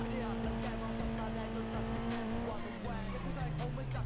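Car in a racing video game swerving and sliding, with a steady engine drone and shifting tire noise sustained throughout, loud and close.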